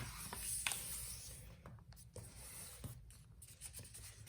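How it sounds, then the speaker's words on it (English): Paper being creased for an origami butterfly, close and quiet, with soft scratchy rubbing and brief swipes as a fingernail presses along the fold, repeated several times over a few seconds. "and crease the fold"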